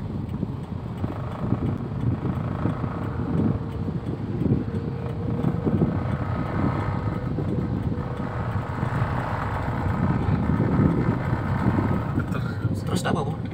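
Motorcycle in fifth gear at about 1000 RPM, fitted with a Blackcore part, throttled gently; a steady low engine drone with wind rush runs throughout, while people talk over it.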